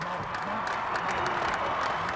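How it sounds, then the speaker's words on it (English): A huge outdoor crowd of thousands gathered before a balcony cheers and applauds in a dense, continuous roar, with voices rising from the mass. "appeared on a balcony in front of thousands of cheering people"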